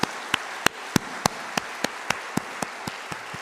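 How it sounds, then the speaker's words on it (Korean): A church congregation claps in unison for its elders at an installation thanksgiving service, with about thirteen sharp, evenly spaced claps that slow slightly toward the end and sound fairly soft over a quiet room. "우리 한 박수 한번 하겠습니다."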